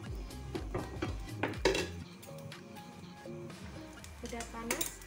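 Metal clanks and scrapes of a wok being set on the stove with oil, a cluster of sharp clinks then quieter handling, with a person talking.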